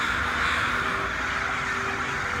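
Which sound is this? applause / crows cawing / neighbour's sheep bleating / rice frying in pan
crows cawing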